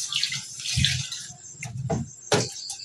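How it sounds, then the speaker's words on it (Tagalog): Tap water runs in short, uneven bursts into a bowl of rice being washed before cooking in a rice cooker, splashing close by with brief pauses between pours. "Kuha po tayo ng tubig at ilalagay po natin dito sa bigas."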